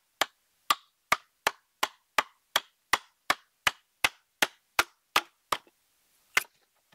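A green wooden board cut from storm-felled trees is struck about fourteen times in a steady, evenly spaced rhythm of sharp, close knocks, then a short pause before one final blow.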